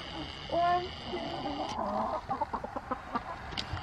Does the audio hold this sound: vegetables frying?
no